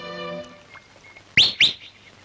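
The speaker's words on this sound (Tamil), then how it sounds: "காலங்காத்தால விசில் அடிச்சுண்டு." A person whistles early in the morning with two short, sharp, rising whistles in quick succession, loud against a quiet background after a faint, steady tone fades.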